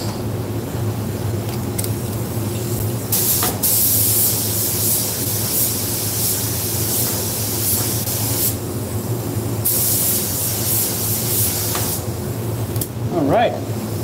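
Spray gun applying light coats of paint to a Tesla, a loud continuous hiss running in long bursts with short breaks between passes, up close.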